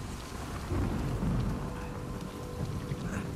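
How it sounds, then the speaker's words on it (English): In a shipwreck survival video game, a heavy thunderstorm pours steady rain with low rumbles of thunder, a dense continuous wash of noise with no voices. "Pretty bad thunderstorm."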